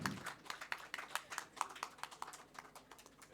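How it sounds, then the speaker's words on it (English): A round of applause for the judges at a pentathlon prize ceremony, a fairly faint, moderate crowd clapping with a steady patter of individual claps throughout. "Can we have a loud round of applause for the judges, please?"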